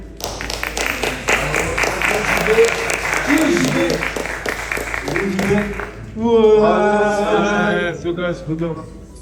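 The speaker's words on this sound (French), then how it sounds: "Et bravo à JB qu'on peut applaudir." An audience at a French talk on crypto mining applauds steadily for several seconds, with dense clapping throughout, then a speaker's voice rises over the fading applause.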